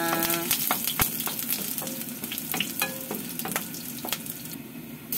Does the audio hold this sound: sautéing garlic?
yes